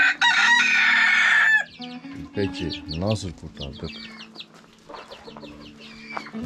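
Chickens and chicks on a farm, with a loud rooster crow at the start, then clucking and chick peeps under a man's speech.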